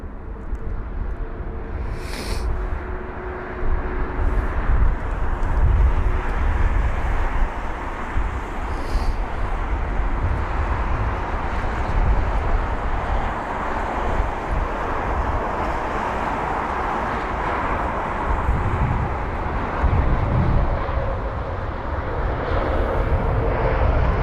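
A Virgin Atlantic Boeing 787 Dreamliner arriving at London Heathrow after a long flight from San Francisco, heard as a steady, broad engine roar and rumble that holds at a fairly loud level for the whole stretch, with no talk.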